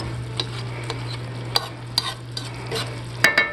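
Ground turkey in olive oil is stirred in a sizzling pan, a soft steady fry under a low hum with sharp utensil clicks and scrapes scattered throughout and a cluster of knocks at the end.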